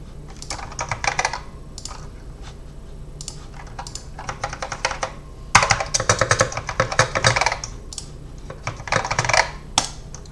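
Fingers type on an untested vintage Apple M0110 keyboard, loud, close clacking keystrokes in bursts with brief pauses between.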